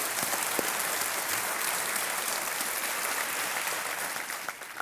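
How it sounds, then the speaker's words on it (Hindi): Studio audience applause on the KBC (Kaun Banega Crorepati) game show, a dense, steady clapping wash lasting the full stretch and tapering slightly at the end, with no talking. "एक बार फिर तालियों के साथ हम आपका स्वागत करते हैं"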